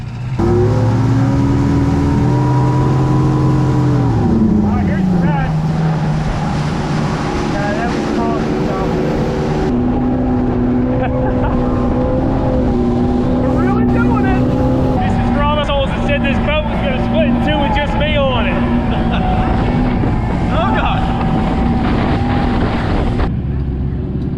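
A Chrysler outboard engine on a 1982 Glasstream bass boat drones loudly on the water, its pitch rising and shifting as it revs, with wind buffeting and people talking over it.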